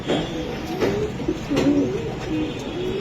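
Pigeons at a pigeon farm in Mirpur, Dhaka, coo repeatedly in low, throaty bursts, close and steady, with a faint background hum.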